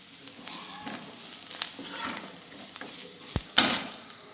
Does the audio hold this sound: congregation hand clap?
no